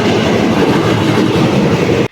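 A KRL commuter train in Jakarta rumbles loudly and continuously from inside the carriage with rhythmic wheel clatter, then cuts off abruptly at the end.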